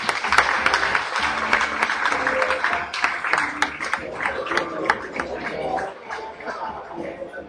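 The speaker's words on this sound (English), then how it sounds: "Give yourselves a round of applause." An audience at an Ignite talk event bursts into a round of applause, dense clapping filling the room at moderate loudness with a voice speaking over part of it before the clapping tapers.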